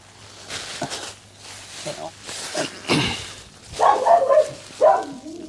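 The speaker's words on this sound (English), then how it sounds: "Oh dear, that's my dog." A dog barks a few times close by during an outdoor tent review, short sharp yaps following a stretch of rustling, with a person talking nearby.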